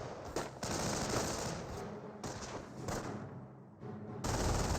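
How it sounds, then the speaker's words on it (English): An MG42 machine gun in the Company of Heroes strategy game fires sustained, loud rattling bursts with brief gaps, the automatic fire running through the whole stretch. "MG42 does fire."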